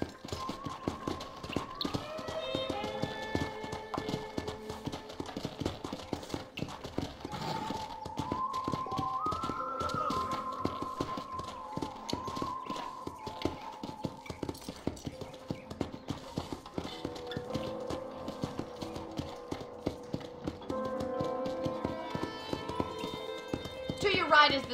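Horse hooves clip-clop steadily in Red Dead Redemption as a rider heads toward a ranch, a continuous even rhythm sitting under someone talking and tonal background music.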